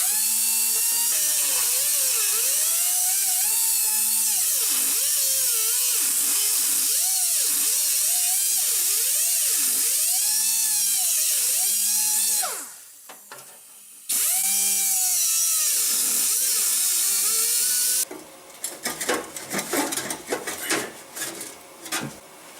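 A power cutting tool saws through an aftermarket exhaust pipe on an MK4 Jetta, a loud high-pitched whine rising and falling with load, then a brief pause and a rougher burst of grinding.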